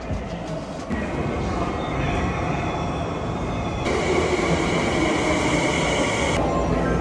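A train pulls into a station in Japan, a continuous rolling rumble of wheels on rails with a high sustained whine and a bright band of squealing in the middle, heard up close and loud on the platform.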